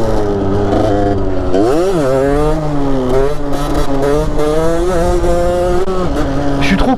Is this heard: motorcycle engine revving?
yes